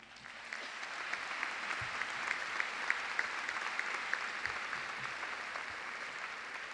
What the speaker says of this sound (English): Please give them applause.